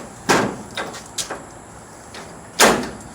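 A metal door on a Lance snack vending machine is set back into place, giving a few sharp knocks and clunks, with a final louder thud near the end, heard close up.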